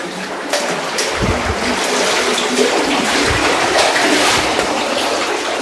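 Clear, shallow water rushes steadily over the stones of a stream in a natural outdoor setting, a continuous close, full-bodied flow with small splashes and no voices.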